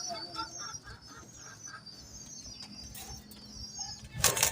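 Pigeons coo in a soft, repeated rhythm nearby, then a sudden burst of wing flutter breaks in at the end.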